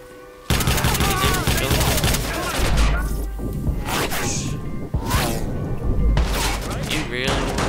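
Rapid bursts of gunfire and heavy impacts fill a Watch Dogs firefight, with dense automatic fire, booms and whooshes running almost continuously at close range while players talk over the action.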